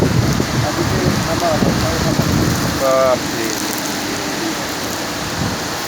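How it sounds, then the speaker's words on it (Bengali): Dense, roaring downpour of heavy rain in a Kalbaishakhi storm pounding continuously, with a brief high bird-like chirp briefly cutting through the steady wash of noise. "দেখেন এত বৃষ্টি, এই ধরনের বৃষ্টি কখনো দেখা যায়নি।"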